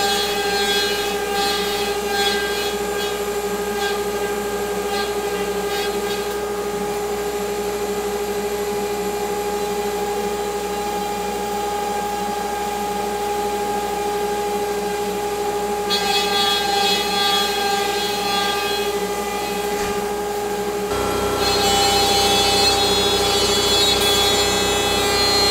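A CNCDepot S30c ATC spindle CNC machine runs a steady, loud cutting pass, its high whine and tonal hum continuous throughout with a shift in pitch and texture near the end as the cut changes.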